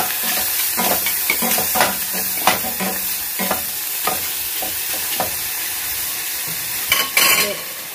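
Shrimp and onion sizzle and fry in a pan with steady crackling hiss, broken by frequent stirring scrapes and clinks of a utensil against the pan, close and moderately loud.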